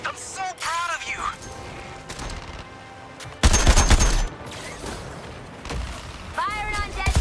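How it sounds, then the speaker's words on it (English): Gunfire in the video game Suicide Squad: Kill the Justice League. Scattered shots and bursts mix with talking voices, then a loud, dense volley breaks out near the middle before the shooting thins again. "Firing on Deadshot's target"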